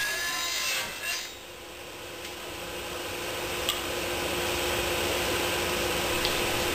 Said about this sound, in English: Next I use my homemade tenon jig to cut the tenons on the ends of the slats.